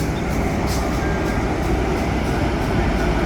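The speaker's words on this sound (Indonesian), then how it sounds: "kereta api Jakarta masuk di jalur nomor 3" The Jayakarta passenger train pulls into track 3 at Jombang station, a continuous heavy rumble of rolling wheels and carriages with low, broad noise holding steady and loud from start to end.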